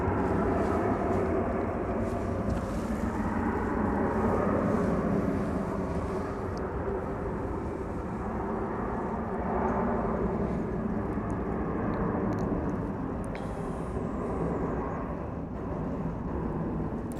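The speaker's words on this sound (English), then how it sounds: "American Flight 456 is what you see on your view screen there. It's an Airbus A321." An American Airlines Airbus A321 rumbles at DFW Airport at night, a faint, steady low engine drone carrying on without a break under distant background noise.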